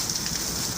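Heavy rain pours down in a dense, steady hiss for a short moment, close and fairly loud, with no voices.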